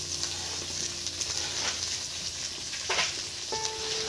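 Fried rice sizzling steadily in a hot pan, a constant loud frying hiss with occasional stirring scrapes and clinks.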